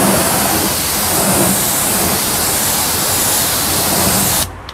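Water sprays hard onto a car wheel to rinse off P&S Brake Buster cleaner, a loud continuous hiss that runs steadily for over four seconds before cutting off abruptly.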